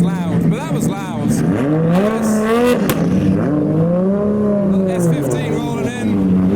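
A Nissan Silvia S15 drift car rolls in at a Japanese car show, its engine note rising and falling steadily and fairly close, with people talking over it.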